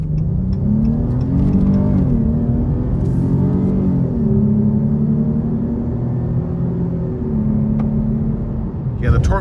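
A 2023 Dodge Charger GT Blacktop with a 3.6 V6 and TorqueFlite transmission accelerating from inside the cabin, a steady loud engine drone rising and falling in pitch with gear changes.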